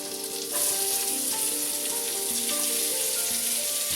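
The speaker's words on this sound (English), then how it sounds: "I took a whole sweet onion, sliced it real thin. Just going to throw it in here." A whole sweet onion, sliced thin, sizzles in a hot pan for boneless coq au vin, bursting into a loud, steady crackle after a brief quieter start, close by with no speech.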